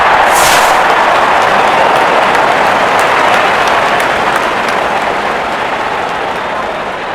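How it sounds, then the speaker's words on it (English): Cricket crowd at a T20 international between Afghanistan and Pakistan breaking into loud, sustained applause, a dense wash of clapping that slowly fades. "There's such a wonderful crowd in to watch their favorite players."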